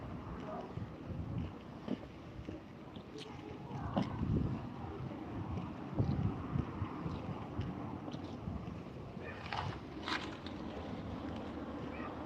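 Steady outdoor wind buffets the microphone in a low, continuous rumble, with brief gusts and faint scattered knocks throughout.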